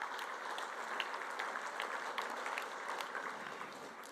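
Steady applause from an audience at a charity lunch, honouring the lunch series sponsors, a dense even patter of many hands clapping that holds for several seconds without a break.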